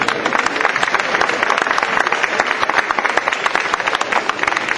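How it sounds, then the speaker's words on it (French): Crowd applause at a mountain-bike club gathering, dense and steady with rapid overlapping claps throughout, loud and sustained without pause. "je vous demande encore de l'applaudir bien fort"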